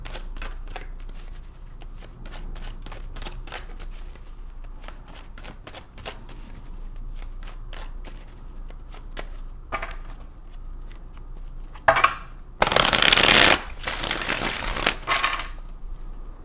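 Repeated soft card riffles and flicks, followed by a louder burst of bridging cards snapping together near the end; close and alone, no talking.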